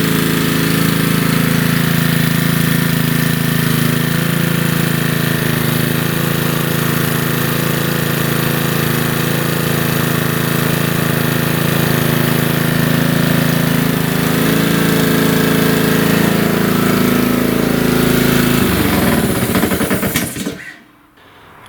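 A lawnmower engine roars at a steady high rev above 3000 RPM, loud and close, holding constant for about twenty seconds before abruptly cutting out and winding down.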